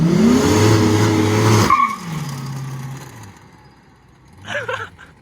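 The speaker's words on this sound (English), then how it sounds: "It did a burnout for a second." A limousine doing a brief burnout, its tires skidding and squealing loudly with the engine roaring for about two seconds, then the sound drops into a quieter rumble and fades, with a short burst of noise near the end.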